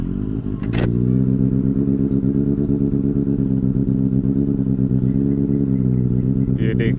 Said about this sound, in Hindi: ये देखिए बाइक स्टार्ट हो ही गया।